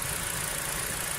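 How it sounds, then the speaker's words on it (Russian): A new LADA X-Ray Cross with a CVT idles nearby, giving a steady, even engine hum with a soft rustling texture throughout, and no voices. "И движочек, да, слышно, шелестит."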